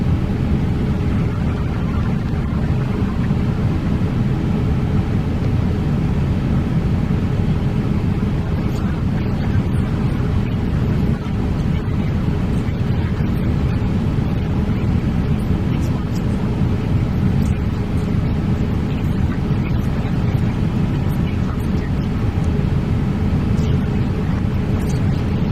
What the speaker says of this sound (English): We have a good engine start.